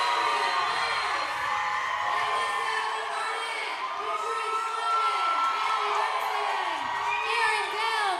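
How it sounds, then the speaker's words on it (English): Loud rowdy crowd at an athletic fitness games event, sustained cheering, whooping and yelling from many people packed close, with announcer-style talk buried in the roar. "Got the rowdy, rowdy crowd now."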